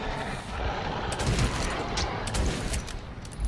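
Gunfire in the Metro 2033 video game, a dense continuous fusillade of rapid shots with louder bursts, near and loud throughout with no voice over it.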